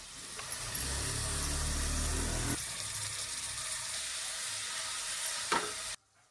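Washed fenugreek leaves drop into a hot pan already seasoned with salt and turmeric, then sizzle and fry with a steady hiss and occasional stirring clatter, before cutting off abruptly at the end.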